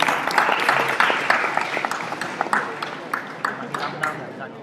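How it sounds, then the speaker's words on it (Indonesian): An audience in Jogja claps after being asked to applaud at a talk, starting as a loud burst of clapping that thins into scattered, sharper claps as it fades. "Tepuk tangan Jogja."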